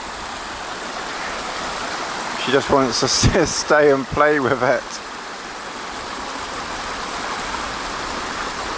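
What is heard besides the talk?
water of a stream flowing while a dog plays in it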